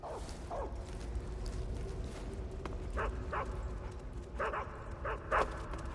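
Dogs bark in Metal Gear Solid 3: Snake Eater, a handful of short distant woofs in quick pairs over a steady low rumbling game ambience, fairly faint and without talk.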